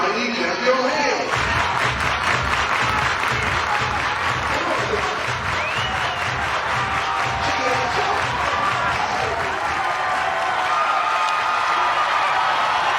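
Crowd clapping and cheering at a women's college softball game between Missouri and James Madison, sustained rhythmic applause filling the stadium throughout, with a commentator's voice faintly over it.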